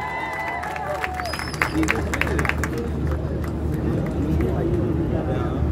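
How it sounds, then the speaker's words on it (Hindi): A large outdoor crowd at a mushaira in Nishtar Park claps and cheers for a poet taking the stage, a broad roar of applause and babble with a few whistles and a talking voice over it. "बहुत सी तालियां यासिर हुसैन के लिए।"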